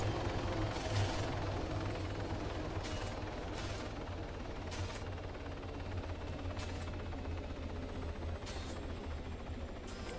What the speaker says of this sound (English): Now that I'm here with those helicopters